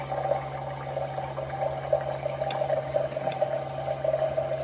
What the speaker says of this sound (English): So basically we're gonna dispense all the water and refill it 3 times and let it flushes out.